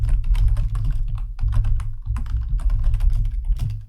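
Fast, continuous clicking of keys as code is typed on a computer keyboard, heard close and loud with only brief pauses and no talk.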